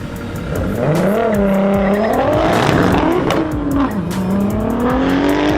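A Chevrolet Caprice drag car at the strip revs hard, its engine pitch climbing and falling in loud swells close by, with tire squeal mixed into the roar, on a snowy day.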